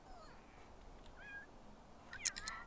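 A cat meows in The Sims 3, giving a few faint, brief calls with a louder burst near the end over a quiet game background.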